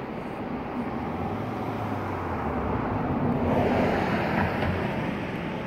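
Ocean waves wash around the base of sea rocks at Cape Meares on the Oregon coast, a steady broad rushing surf with gusts of wind across the microphone and a low rumble underneath, continuous throughout.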